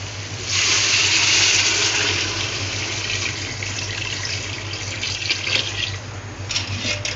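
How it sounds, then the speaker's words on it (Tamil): Water pours steadily into a cooking pot nearby for vegetable biryani, a continuous gushing splash that softens and settles toward the end. "இப்போ இதே அளவுக்கு ரெண்டு அளவுக்கு இந்த பாத்திரம் 2 தடவை தண்ணி ஊற்றிக்கோங்க."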